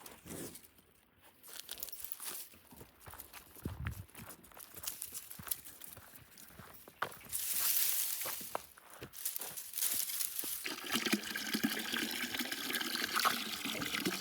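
Water from a hose spraying over a horse during an outdoor summer shower, a broad steady hiss that swells louder midway and continues as a dense wash of spray, with occasional hoof clatter and handling sounds and no talk.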